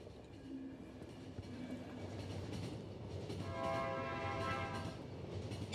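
Train rolling along in The Final Station, a steady rumbling run with rhythmic rail noise and a bright sustained tonal whine joining partway through, fairly quiet and alone without talk.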